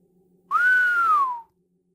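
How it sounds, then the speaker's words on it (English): A single low, smooth whistle from a person, rising slightly then gliding down over about a second, close and clear against near silence. "He whistled low as they entered."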